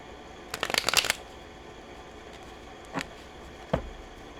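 A personal tarot deck is shuffled nearby: a quick riffle of rapid card flutters, followed by two short, single card snaps.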